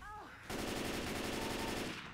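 Sustained automatic gunfire in the zombie shooter Left 4 Dead 2, a dense rapid burst of shots running steadily for most of the moment after a short quieter lead-in with faint voices.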